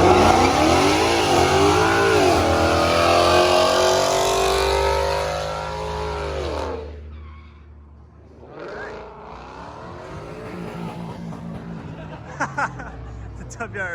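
A Subaru WRX, trailing heavy smoke and sounding close to blowing a rod, revs loudly and holds at high rpm for several seconds, then drops away, with a crowd chattering throughout and lower engine noise returning afterward.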